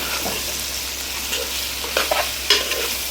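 A spoon stirs chapati curry with green chillies in a pan over a faint steady sizzle, with a few soft scrapes and clinks near the end.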